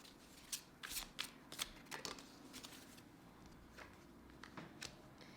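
Tarot cards being shuffled by hand before a draw, a close, quiet run of crisp riffling flutters in uneven bursts that thin out toward the end.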